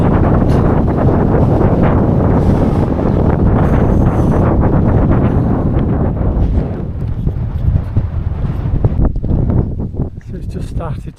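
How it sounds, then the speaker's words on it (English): Strong wind buffets the microphone in a continuous loud roar on an exposed hilltop in Moldova, with a voice partly buried beneath the rumbling gusts. "I don't know if you can even hear me because of the wind."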